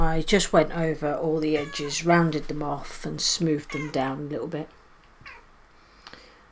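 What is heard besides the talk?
cat Lily meowing in the background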